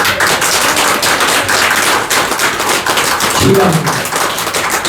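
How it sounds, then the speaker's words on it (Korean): Sunday church congregation clapping in a quick, even rhythm underneath someone speaking over them. "이 박수 소리가 너무 짱합니다"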